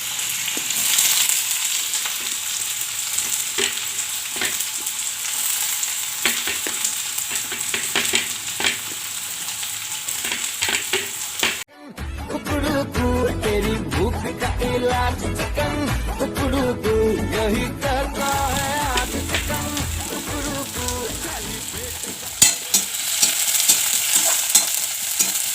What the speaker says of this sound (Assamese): পিঁয়াজখিনি ৰঙা হৈ যোৱালৈকে ভাজি থাকিম